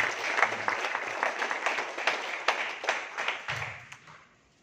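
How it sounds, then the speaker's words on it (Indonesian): An audience at a marketing plan presentation applauds, a dense wash of clapping from many hands that holds steady and then fades out over a few seconds. "Aplaus dulu Bapak Ibu semua"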